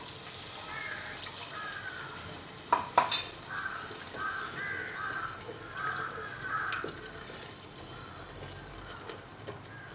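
Water splashes into frying onion-tomato masala for paneer butter masala, setting off a couple of sharp sizzling bursts followed by continued bubbling and stirring scrapes nearby, with no talking.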